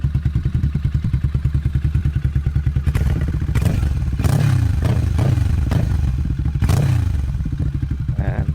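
A heavy cruiser motorcycle with a Rebel Arrow full exhaust idles with a loping, throbbing rumble, then blips the throttle a few times in loud, deep bursts, recorded up close.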